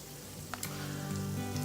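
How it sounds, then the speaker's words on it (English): Sausages frying in olive oil in a pan, a steady close sizzle and crackle with a couple of brief clinks of utensils. "fry them on a frying pan on olive oil to the point that they're golden brownish"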